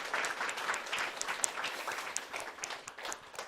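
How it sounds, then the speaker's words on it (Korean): Church congregation applauding to welcome a visiting missionary from the Dominican Republic, a dense, steady burst of many hands clapping at moderate distance, with no speech over it. "우리 다 같이 박수로 환영해 주시기 바랍니다."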